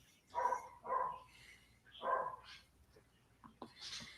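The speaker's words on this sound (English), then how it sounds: "Is that dog in your microphone or my microphone?" A dog barks indoors near a microphone: two quick barks, a pause, then a third bark, followed by softer whimpers and yips, fairly close and clear.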